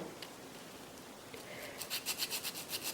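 Nail file rubbed back and forth to remove glitter from a surface, a quiet rasping that turns into a quick run of rhythmic strokes close up near the end.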